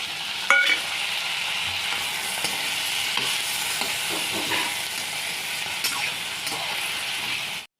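Onions frying to a pinkish colour in a pan for a cashew gravy for malai kofta, with tomatoes going in. A steady, fairly loud sizzle runs throughout, with a brief bump near the start and light stirring scrapes.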